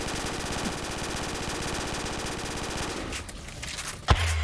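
A P90 fires in Black Ops 3 zombies as a steady, rapid stream of quick shots for about three seconds, then stops, followed by a single sharp impact.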